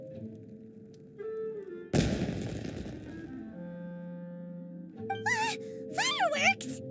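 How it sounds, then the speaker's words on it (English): In Genshin Impact, a loud burst of crackling firework explosions erupts, followed by fading rumble, then bright whistling, warbling tones rise over a music-like game backdrop. "It sounded like fireworks."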